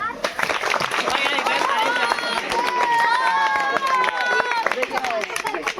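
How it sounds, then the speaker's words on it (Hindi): A room of children claps together in the middle of a science kit unboxing, dense overlapping claps filling the whole stretch, with excited voices and chatter mixed in throughout. "प्यारे बच्चों ताली बजाओ।"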